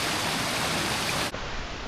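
Fresh spring water running steadily into a natural pool at Tanay, Rizal, a constant broadband rushing wash that briefly dips and then continues, close and loud with no voices.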